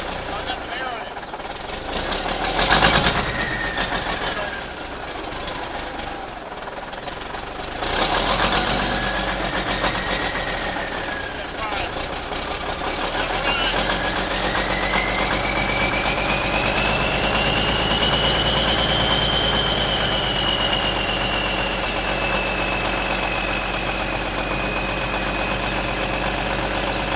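A Ford CO9670 truck with a 350 Big Cam diesel engine and turbo idles steadily, a low rumbling drone joined by a rising, whistling turbo whine, with people talking over it.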